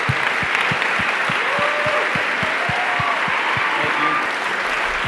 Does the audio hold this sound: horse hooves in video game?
no